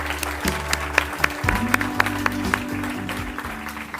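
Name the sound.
audience applause at awards ceremony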